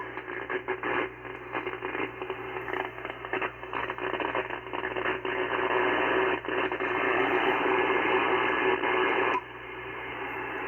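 Static noise from an ICOM IC-9700 radio receiver, a dense continuous hiss with crackling bursts, loud and unbroken, then dropping slightly in level near the end.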